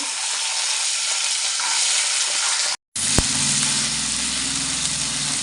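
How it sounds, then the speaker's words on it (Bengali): Loud, steady sizzling and crackling of peanuts frying in hot mustard oil, briefly cutting out, then resuming with a small clink. "ছোলা বাদামটা একটু ভালো করে ভেজে নেবো"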